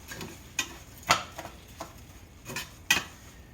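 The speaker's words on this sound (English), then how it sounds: "I'm gonna take my spatula. We want to saute that until it's" Spatula scraping and tapping against a pan while food sautés, a handful of sharp metallic clinks scattered irregularly over a faint sizzle, close and fairly quiet with no talking.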